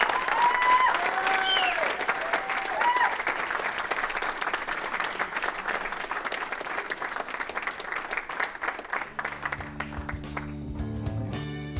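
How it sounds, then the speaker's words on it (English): A room full of people applauds after a coached session, steady dense clapping that holds strong for about nine seconds and then thins out and fades, with a voice starting to talk near the end. "give yourselves a round of applause"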